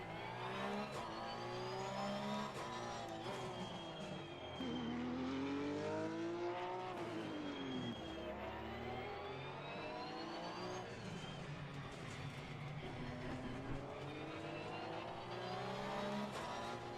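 A Porsche Cup race car in the ACC racing game at Kyalami revs and accelerates steadily, engine pitch sweeping up and down through gear changes for a sustained, loud stretch with no talk.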